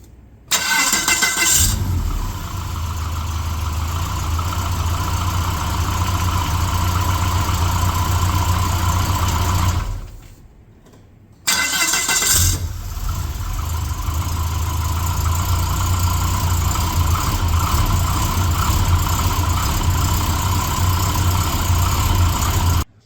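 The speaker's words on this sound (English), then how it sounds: "Then we can mount back the starter motor and hopefully this thing will start." A Volvo 240 fitted with a newly swapped AW71 automatic gearbox cranks and fires up, then settles into a steady, loud idle. The engine cuts briefly, restarts and keeps idling, with no talking.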